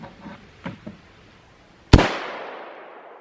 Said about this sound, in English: I'm going to shoot this with a 308